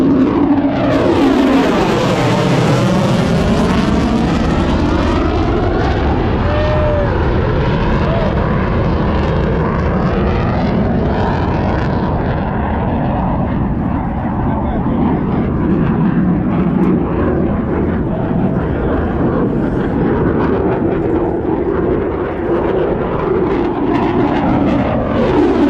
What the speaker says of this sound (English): Oh, that's a 35. F-35, baby.